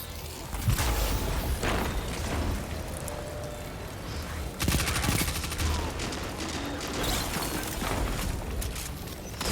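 Weapons fire during a Destiny 2 Trials match, with dense bursts of rapid shots and booms layered over a busy, constant game soundscape at moderate loudness.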